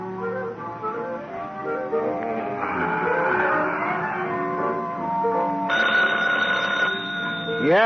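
Telephone ringing in a radio drama, an electronic bell tone repeating over layered background sound, fairly prominent with a brighter, louder ring toward the end.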